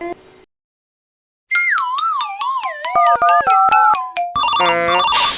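An electronic ringtone plays a loud warbling, siren-like melody that breaks into stepped beeping notes, ending in a denser burst of tones.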